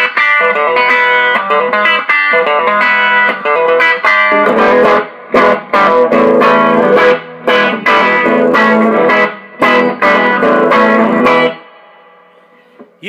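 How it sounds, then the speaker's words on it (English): Electric guitar with a single-coil neck pickup and both pickups wired out of phase, playing a thin, nasal, reverberant intro of sustained chords and picked notes, then a rhythmic run of choppy strummed stabs before fading out. "Take both pickups out of phase and put them both on."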